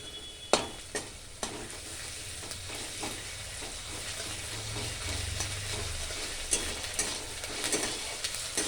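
Ginger paste and green chillies fry in a pan for achari chicken, a loud close sizzle broken by repeated scraping stirring strokes, with a few sharp knocks early on.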